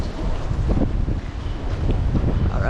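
Strong gusts buffet the microphone on a windy day outdoors by old historic buildings, a rough, continuous rumble of wind with no voices over it.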